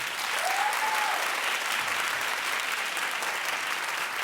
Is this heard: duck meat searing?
no